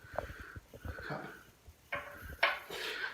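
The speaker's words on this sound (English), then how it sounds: "Carefully getting a cup." Quiet kitchen clatter of a cup being taken from a cupboard, a few light knocks and clinks of dishes and a cupboard door, faint and close, with no talking.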